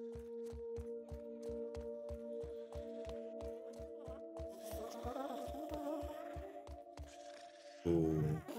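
Low buzzing hum of bees in the survival game Grounded, a steady drone under a regular pulsing beat, with a brief louder rush near the end.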